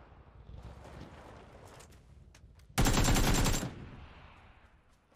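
Automatic gunfire in an online shooter game, a sudden loud sustained burst lasting under a second, set against quieter game ambience and faint wind-like noise.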